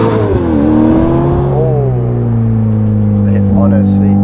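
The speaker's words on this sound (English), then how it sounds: "This car is fitted with sport cats and, of course, with a Novitec rear muffler." A Novitec-tuned Ferrari F8 N-Largo with sport cats and a flap-actuated Novitec rear muffler, flaps open, holds a loud, close, steady engine drone with rising and falling revs, while voices talk over it.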